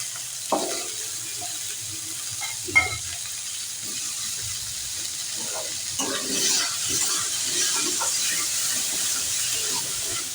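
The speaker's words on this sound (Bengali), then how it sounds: "এর মধ্যে দিয়ে দেবো এবারে কেটে রাখা আলুগুলো।" Cut potatoes hit a hot pan of oil for a tilapia and cauliflower curry, a steady bright sizzle carrying on throughout with scattered clinks and scrapes of stirring, close and moderately loud.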